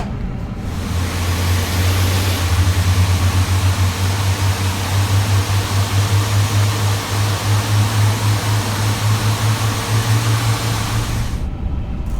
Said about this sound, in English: Engine 2 is also available now, so we can turn on engine number 1.